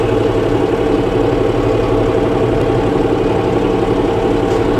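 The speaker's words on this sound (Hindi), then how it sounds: "जबकि 750 चक्कर पे चला रखा है मैंने रोटावेटर" A tractor drives a Birbal rotavator through a wet paddy field full of stubble at about 1500 RPM, making a steady, loud, close engine drone with an even low throb throughout.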